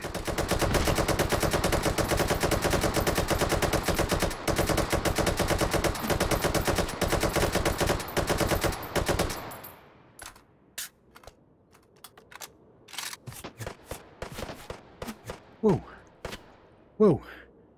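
Dense rapid automatic gunfire in the VR shooting game Hot Dogs, Horseshoes & Hand Grenades, a loud continuous burst for about nine seconds, then scattered single shots and clicks with sporadic louder cracks.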